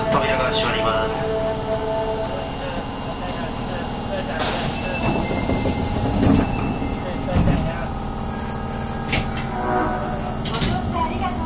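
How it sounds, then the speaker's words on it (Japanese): Passenger train bound for Yao-Minami running, a steady rolling rumble with occasional clacks and squeals from inside the carriage while an onboard announcement voice speaks over it. "この電車は八尾南行きです。"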